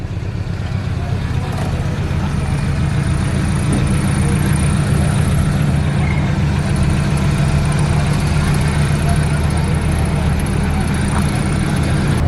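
A Suzuki Katana engine idles close by in a steady, continuous low rumble that holds the whole time, with broadband noise over it and no clear speech.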